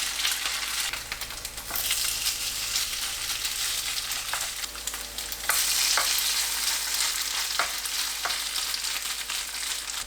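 Perilla leaf jeon batter frying in oil in a preheated pan over medium heat, a continuous bright sizzle with occasional soft clicks and shifts as pieces are moved.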